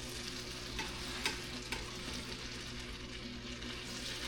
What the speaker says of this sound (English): You hear that sizzle? That popping?